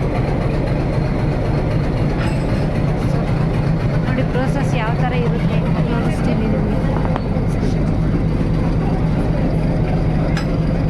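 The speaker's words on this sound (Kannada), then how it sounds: "ಇಂಜಿನ್ ಜಾಯಿನ್ ಮಾಡ್ತಾ ಇದ್ದೀನಿ. Steam engine, locomotive steam engine ಇದು." An Ooty toy train steam locomotive being coupled at a hill railway station, heavy low rumbling and idling engine noise with clanks and hissing, loud and continuous while someone talks over it.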